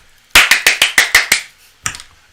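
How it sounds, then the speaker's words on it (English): Seven quick, sharp hand claps in an even rhythm, close and loud, then a pause and one final clap. "do not clap like that"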